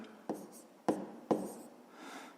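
Pen strokes on paper during a fifth-grade math lesson, three short scratchy taps spaced about half a second apart followed by a softer stretch of continuous writing, close and quiet with no talk.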